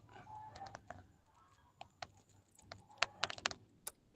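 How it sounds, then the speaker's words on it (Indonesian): Keys clack on a computer keyboard during an online PE lesson session, in scattered bursts of sharp clicks with pauses between, close and fairly quiet. "Ini saya juga bisa ngetik."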